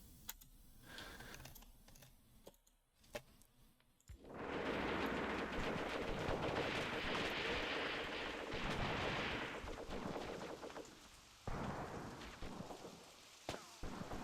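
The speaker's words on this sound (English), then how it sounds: "Is that an artillery strike?" An artillery strike in the war game Graviteam Tactics: a sudden loud, sustained rumbling barrage of blasts that rolls on for several seconds before tapering off, with scattered lighter impacts and quieter stretches around it.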